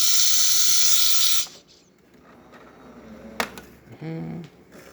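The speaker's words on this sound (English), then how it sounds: "Nice steady steam coming out of the machine, looking great." Loud, steady steam hiss from a Jura ENA 9 espresso machine's steam wand blasts for about a second and a half, then cuts off, leaving quieter clicks and a brief tonal buzz.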